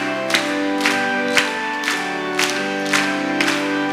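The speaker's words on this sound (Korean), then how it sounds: "우리 박수를 치면서 힘있게 찬양합니다" A church congregation at a Wednesday night worship service claps in unison while singing a hymn, with sharp rhythmic claps landing about every half second over sustained voices and instruments.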